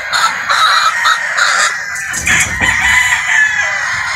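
A sweater gamefowl rooster crows repeatedly at a game farm in Batangas, loud and close, with other fowl clucking and calling around it.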